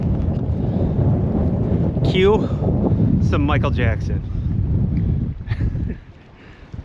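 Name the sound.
strong wind outdoors, wind noise on the microphone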